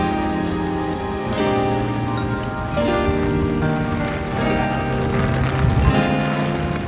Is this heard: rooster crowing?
no